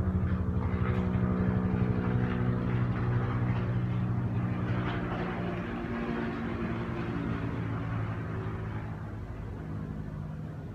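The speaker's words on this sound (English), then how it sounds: "I thought the helicopter was gonna come towards me." Loud, steady rotor and engine drone of a helicopter passing close overhead above a house, a continuous throbbing roar that slowly fades toward the end.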